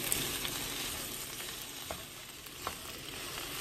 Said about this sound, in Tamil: அதனால நான் இப்படி சென்டராக வச்சு இப்போ ஃப்ரை பண்ணிகிட்டு இருக்கேன்